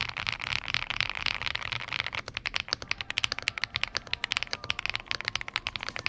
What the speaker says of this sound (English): This creamy keyboard just restocked, and it's the Ajazz AK820 IV3.